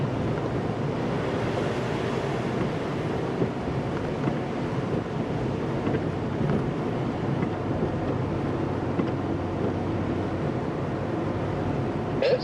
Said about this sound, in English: It's pretty windy here in Michigan City.